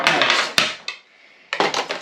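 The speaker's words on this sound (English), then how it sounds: "Scrape this all off." A hand scraper rasps residue off a surface in two loud, close bursts of harsh scraping with a sharp knock between, separated by a short quiet gap; no talk.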